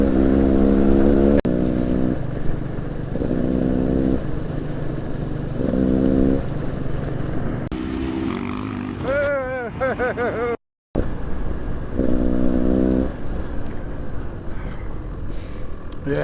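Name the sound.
motorcycle riding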